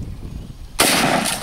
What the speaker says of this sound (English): Got the Mossberg Model 88, 12 gauge, 18 inch barrel. 5 rounds shooting out that TV down there.